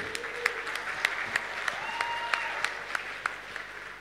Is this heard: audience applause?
yes